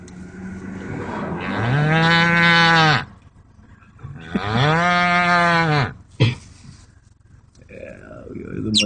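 A voice imitates a cow, giving two long, loud, drawn-out moos in a row, followed by a short sharp sound and some quieter murmuring.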